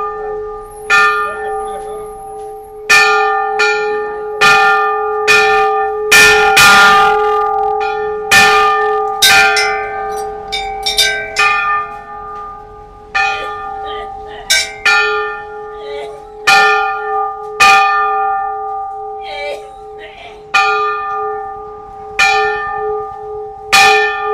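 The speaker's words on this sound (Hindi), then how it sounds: "ये ध्वनि मुझे इतनी पसंद है, ये जो घंटों की, शंखों की, मृदंग की, इनकी ध्वनि" Temple bells ring repeatedly at Dhari Devi temple on the Kedarnath pilgrimage route, sharp metallic strikes with long resonant overtones, loud and close, struck in an irregular rhythm throughout with faint crowd murmur beneath.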